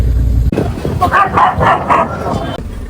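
Several dogs on a roadside in Jharkhand barking and snarling at each other in a fight, a loud close burst of repeated yelps and growls after a brief lull.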